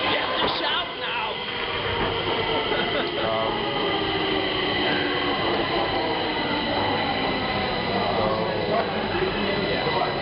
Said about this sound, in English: you're like not gonna hear anything because the train is coming